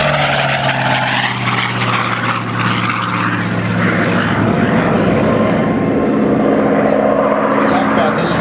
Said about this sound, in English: This is what Reno sounds like.